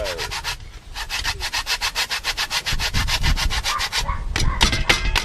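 Coconut and nutmeg rubbed against a handmade grater for Jamaican dukunu, a steady fast rasping scrape repeated in even back-and-forth strokes, close and continuous with no talking.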